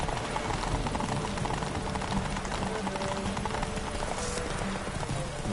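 Hooves of the horse Roach pound in a steady galloping clip-clop in The Witcher 3, continuous and close under a dense game soundscape.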